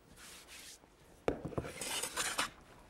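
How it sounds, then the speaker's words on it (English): A small hand plane smooths a hardwood cutting board, faint scraping at first, then a sharp contact followed by a few quick rasping shaving strokes, close and quiet. "I'm gonna keep going on my cutting board surface with the little plane and just take it down a little bit"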